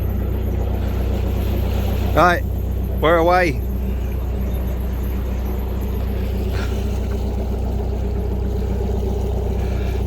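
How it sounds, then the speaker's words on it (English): A narrowboat's diesel engine runs on the Llangollen Canal, a steady low rumbling drone close by throughout, with a few brief spoken words and a short whistle-like sound early on. "Yes, the sound of a diesel engine."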